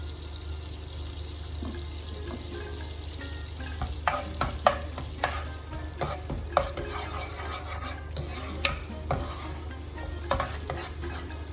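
A few curry leaves fry in hot oil for a carrot stir fry. A steady sizzle runs under a low hum, with bursts of crackling and stirring clatter in the middle, and no one speaks.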